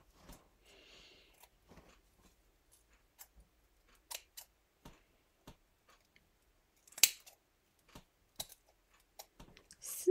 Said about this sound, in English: Snippity snip.